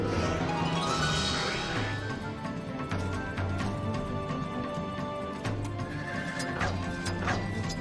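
Horses neighing in the fantasy strategy game Heroes of Might & Magic 3 HD, with loud whinnies over dense game music and clopping, several calls rising through a steady busy mix.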